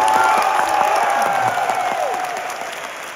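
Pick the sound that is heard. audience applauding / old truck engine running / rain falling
audience applauding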